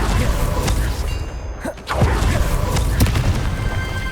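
A fiery Confringo spell blast in the video game Hogwarts Legacy, a loud booming burst with a brief whooshing dip before another thud, set against continuous dense game ambience with no talking.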